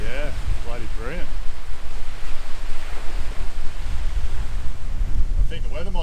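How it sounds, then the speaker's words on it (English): Strong wind gusts by the sea on a hot, sunny day, a constant loud roar of rushing air over the microphone mixed with surf, while people talk briefly at the start and end. "The wind's definitely picked up, takes the edge off the heat."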